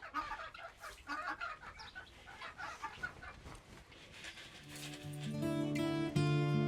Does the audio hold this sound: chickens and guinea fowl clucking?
yes